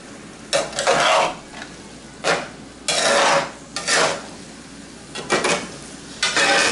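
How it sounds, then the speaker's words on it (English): Meat browning in a pan over medium-plus heat, stirred in repeated scraping, sizzling bursts separated by quieter frying, close and fairly loud with no talk. "all I'm doing is browning this meat"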